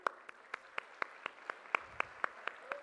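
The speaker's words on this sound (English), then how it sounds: "The applause should keep coming." An audience at a literary festival inauguration claps in a faint, steady, evenly spaced rhythm of about four beats per second, heard from a distance in a hall.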